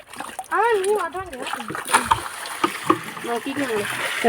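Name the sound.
water being scooped and splashed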